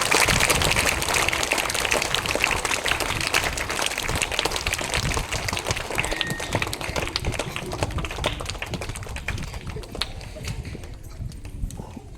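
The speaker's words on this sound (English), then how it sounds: "Welcome them with your huge round of applause" Students at a school assembly clap steadily in a dense, continuous burst that holds loud for several seconds and then thins slightly toward the end, with no voices over it.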